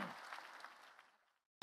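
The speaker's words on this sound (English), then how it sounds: "A round of applause for all of our participants." Audience applause at a mayor's development roundtable fades out over about a second and a half, tapering to silence before a brief loud burst at the very end.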